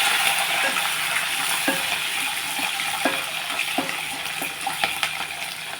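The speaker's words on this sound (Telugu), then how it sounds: "మనం పచ్చిమిర్చి వేసేస్తాను ఇది కూడా ఒకసారి ఇలా ఫ్రై చేస్తాను" Green chillies sizzle in a hot pan for a Telugu telagapindi recipe, a steady close frying hiss broken by occasional light scraping taps of stirring.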